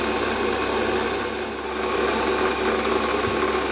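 A metal lathe takes a final cut at 920 RPM while turning a part for a ball turning tool, giving a steady, continuous machining whine and rattle that holds at the same level throughout, with no talking.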